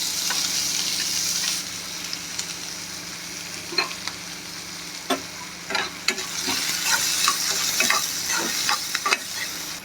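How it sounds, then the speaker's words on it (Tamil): Mustard seeds, cumin, onion and chillies crackle in hot oil for a chickpea sundal tempering, a close steady sizzle punctuated by repeated sharp spoon taps and stirring knocks, no one speaking. "அரிஞ்சு வச்ச வெங்காயம் மிளகாய் எல்லாத்தையும் போட்டு நல்லா தாளிச்சிக்கலாம்"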